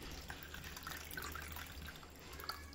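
Water is poured into a measuring cup in a kitchen, making a soft, continuous trickle with small drips and splashes; quiet and close, with no talk.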